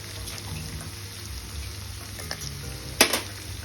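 Chicken sizzling as it fries and dries in a pan, a steady close crackle and hiss with a brief louder spatter near the end.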